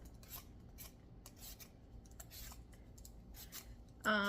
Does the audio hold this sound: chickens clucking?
no